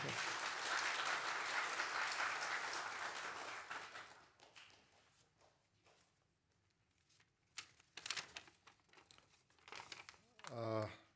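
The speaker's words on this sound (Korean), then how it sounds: "박수 한번 칠까요?" A church congregation at a Sunday ordination thanksgiving service applauds warmly for about four seconds before the clapping fades into paper rustling, handling noises and a voice speaking nearby.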